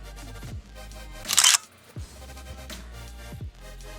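A camera shutter fires for a 2-second exposure, giving a sharp mechanical click burst over steady background music with low thumps.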